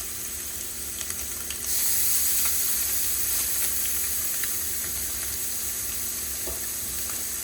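Pieces of fish sizzle steadily in a hot, lightly smoking skillet for blackened fish tacos, a loud continuous frying hiss that swells as more pieces go in, with occasional soft scrapes of a tool and no talking.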